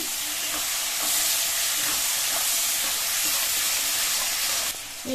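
Tomatoes going into a pan of half-fried carrots and potatoes, a steady loud sizzle and hiss of frying with stirring, continuous throughout before dropping briefly at the end.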